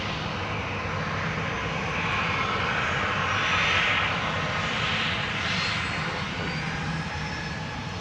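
A KLM jet airliner departing Amsterdam Schiphol Airport, its engines producing a steady, broad roar up close that swells slightly in the middle and holds without a break, with no voices over it.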